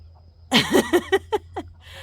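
A chicken in a coop gives a quick run of about six clucks, close and fairly loud, tapering off in pitch and volume, over a low steady hum.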